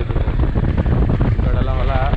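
Strong wind roars across the microphone at high speed on a ride near the Huligemmana Kolla waterfalls in Badami, a loud, dense, continuous buffeting with no break, and faint voices blending in toward the end.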